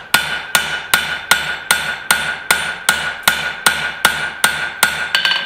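A hammer strikes hot steel on an anvil while a garden cultivator is forged, with about fourteen loud, evenly spaced ringing blows close by and no talking.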